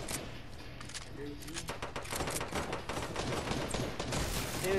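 Shotgun blasts and bursts of gunfire in the video game Fortnite, several loud sharp reports over a steady game backdrop with footsteps, growing denser toward the end.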